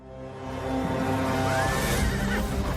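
A horse whinnies loudly from a French film trailer for Turf, a rising and falling neigh with a high sweeping cry in the middle, set over a steady backdrop of sound and with no talking.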